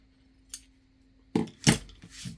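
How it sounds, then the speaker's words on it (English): Scissors snipping strings on a handmade junk journal: a faint click, then two sharp close cuts in quick succession, with no talk. "Let me cut these strings"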